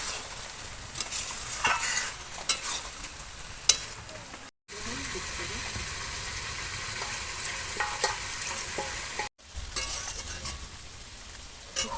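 Chicken with ground onion and spice paste sizzling in a pan, a steady frying hiss broken by scraping stirs of a spoon against the pot, with two brief cutoffs.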